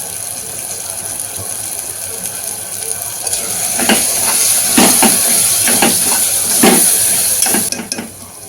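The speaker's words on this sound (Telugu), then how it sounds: "2 స్పూన్ల కారం వేసుకుందాం. 2 స్పూన్స్ సాల్ట్ వేసుకుందాం. ఒకసారి బాగా కలుపుకుందాం." A spoon stirs chili powder and salt through a sizzling pan of goat intestine curry masala, with steady frying hiss and a series of distinct scraping strokes in the second half, fairly close and loud, no voices.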